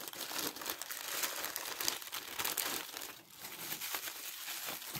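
A plastic packet holding a pack of Gigabyte graphics card cooling fans is torn open up close, giving a steady crinkling rustle for about five seconds with no voices.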